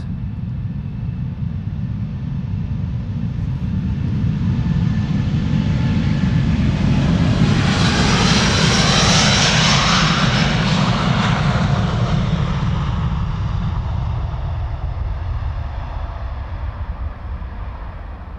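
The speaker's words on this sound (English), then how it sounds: "Time for Delta Airlines Flight 49 to go to New York JFK. It's an A330 Neo" A Delta Airlines Airbus A330neo jet takes off at Amsterdam Schiphol, its loud, steady engine roar swelling to a peak midway with a rising whine and a Doppler-like sweep, then slowly fading as the aircraft climbs away.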